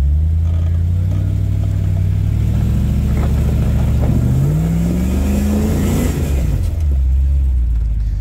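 An off-road vehicle engine at Windrock Offroad Park's Panther Rock, rumbling loud and close as it climbs a rock, revving up and down in rising and falling pulls with a deep steady growl underneath.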